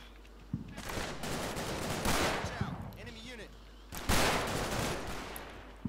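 Machine gun fire in the Combat Mission: Battle for Normandy war game comes as repeated loud bursts of rapid gunfire with scattered single shots over a steady low hum, with a narrating voice in between.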